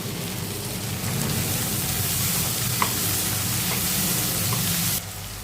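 Tomatoes cook in hot oil with fried potatoes in a pan, a dense, rushing sizzle close by that holds steady before dropping away abruptly near the end, with a faint stir or two.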